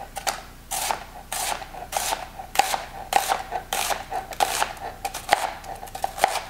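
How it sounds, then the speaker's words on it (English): A knife thinly slices half an onion on a cutting board for a salad niçoise, a quick regular series of close crisp chops and board taps, about two per second. "Now for our onion, we're just gonna be slicing it."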